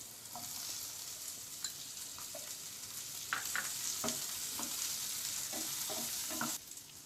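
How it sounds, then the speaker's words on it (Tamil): Onions sautéing in a pan for idly Manchurian, a steady close sizzle with scattered scraping clicks of a spoon stirring through the whole stretch, no voices. "இது வெங்காயத்தை ரொம்ப வதக்கணும்னு தேவை கிடையாது, ஓரளவு வதக்கியிருக்கேன்."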